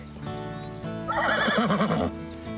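Horses neighing in a stable setting, one loud, close whinny with a shaky, wavering pitch rising over low background noise, with a faint hoof clop just before it.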